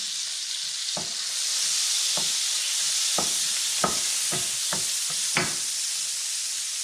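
Garlic sizzling steadily in butter and a little oil in a pan, a bright continuous hiss broken by a series of distinct scraping stirs close by.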